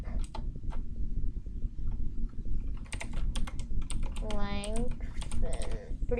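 Code being typed on a computer keyboard while building an FPS controller in Unity: quick, irregular bursts of close key clicks and taps, mixed with someone talking over them.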